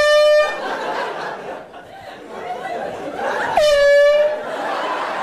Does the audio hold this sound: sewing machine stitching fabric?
no